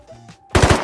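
Short burst of automatic gunfire from an MP5 in the video game Rust, a few quick loud shots after a near-silent moment.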